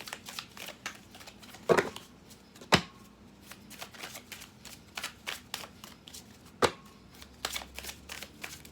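A deck of cards is shuffled and handled for a reading, giving a quick run of soft riffling flicks and taps with a few sharper snaps, close and quiet, without talking.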